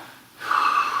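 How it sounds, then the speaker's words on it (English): A patient breathes out steadily during a head-to-toe medical exam, a single breathy, slightly wheezy exhale that starts partway through and holds on, close and fairly loud, with no talking. "I want you to exhale and hold"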